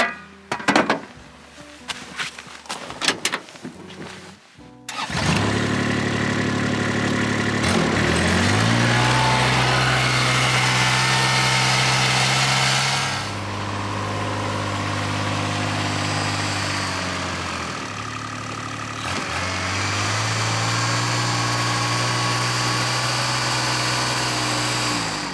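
A tracked Kubota X1100C RTV utility vehicle runs through snow, with a few seconds of knocks and clatter before a steady, loud engine drone that rises and dips in pitch as it drives and climbs.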